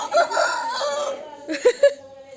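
A rooster crows close by in a village yard, one loud drawn-out cock-a-doodle-doo followed by a few short clucking notes.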